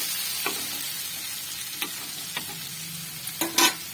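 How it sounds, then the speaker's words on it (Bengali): Fried chickpeas and potatoes with spices are stirred in a pan, a soft continuous sizzle broken by several sharp spoon scrapes and clanks against the metal, the last few louder. "দেখুন এটিকে ভালোভাবে সবগুলো মিক্স করে নেব মশলার সঙ্গে"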